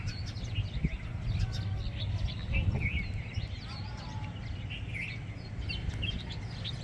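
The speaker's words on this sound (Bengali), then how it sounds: "কি সুন্দর করে কিচিরমিচির করে ডাকছে।" Weaver birds chirping in a park in Khalifa City, Abu Dhabi, a scattered chorus of light tweets at moderate distance over a continuous low outdoor rumble.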